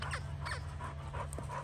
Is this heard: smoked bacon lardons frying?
no